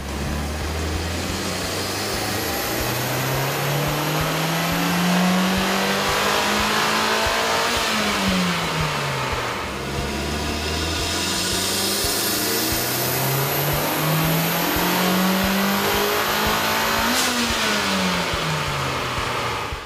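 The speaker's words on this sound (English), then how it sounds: "we ran the vehicle on the dyno to test the sound comparison versus the stock intake" A 2008-2014 Mitsubishi Lancer Evolution with a K&N cold air intake revs on a dyno, two long loud sweeps climbing to high RPM and dropping back, with a steady roar and an intake whine.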